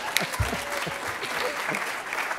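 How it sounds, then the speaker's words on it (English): Dense applause from a crowd, a steady wash of many hands clapping at once, loud and sustained throughout. "Please, a round of applause for Michael"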